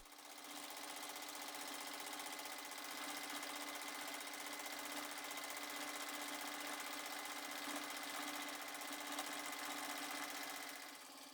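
A sewing machine stitches a small piece of appliqué fabric, forming the ground of a thread-sketched scene, into position; a steady, continuous mechanical whir hums without pause for about eleven seconds, with no talking.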